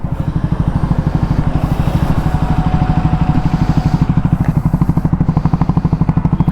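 A Triumph Scrambler 350 X motorcycle engine thumps at a steady rapid beat through its exhaust, loud and close, a continuous single-cylinder pulse throughout.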